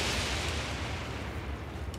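Fire barrels blowing up in Elden Ring, a dense, loud rumbling blast that roars on without letup for two seconds, heavy low boom under a hissing wash of noise.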